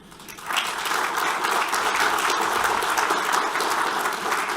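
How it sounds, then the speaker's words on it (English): Conference audience applauding the organizers and sponsors, clapping swelling quickly and holding as a dense, even roar of many hands through the end. "I think they deserve an applause."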